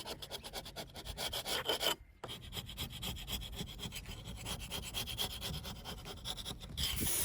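A scraper drags steadily over wood, lifting old paint and varnish softened by Peel Tec paint remover, with a continuous close rasping rub and one brief pause.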